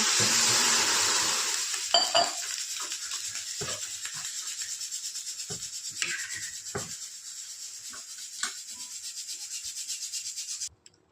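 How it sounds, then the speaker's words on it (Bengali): Water is poured into semolina frying in a pan for upma, a loud rush and sizzle at first that fades into steady scraping and stirring with several sharp clacks of a spoon against the pan, then stops suddenly. "এখন দিয়ে দিচ্ছি পানি"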